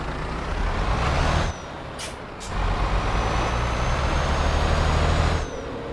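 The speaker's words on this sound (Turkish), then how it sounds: "Şimdi frene dokunacağım abi." Truck air brakes in Euro Truck Simulator 2 hiss over a steady engine drone, with two sharp bursts near the middle, then a long loud braking stretch that stops abruptly near the end.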